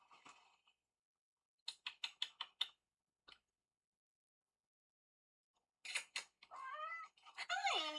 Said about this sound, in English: His little meows.